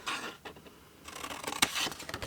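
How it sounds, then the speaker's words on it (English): Scissors cutting a paper gift-box template straight along the lines, heard as close, soft snipping and crisp paper rustles, with a brief sharp crunch partway through and no talk. "We're going to take it away both ends, and I'm just going to cut straight on the rectangle."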